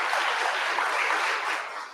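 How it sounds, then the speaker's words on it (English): An audience at a launch pitch night gives a steady round of applause, a dense, even wash of clapping that holds for a couple of seconds before easing slightly at the end. "Can we give them a round of applause?"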